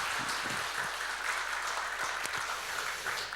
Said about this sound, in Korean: 우리 박수로 크게 축복해 줍시다